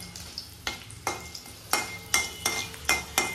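Dried red chilli pieces dropped into hot tempering oil sizzle steadily, with a string of sharp scraping stirs from a utensil in the pan at close range and no one talking.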